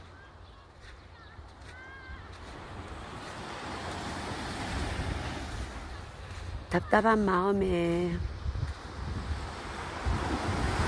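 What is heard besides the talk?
ocean waves at seaside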